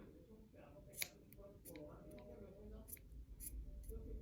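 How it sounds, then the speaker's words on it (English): Scissors snipping off the extra string of a DIY hair wrap: a few quiet, close clicks and snips over faint background noise, with soft murmured talk under it. "and now you have like this extra string, and I'm just gonna cut that off."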